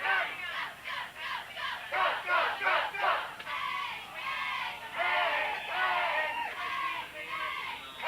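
Crowd noise at a 1994 high school football game between Ashland and Bellingham on a night game field, a loud, continuous roar of many voices with rising shouts and yells, steady throughout without a break.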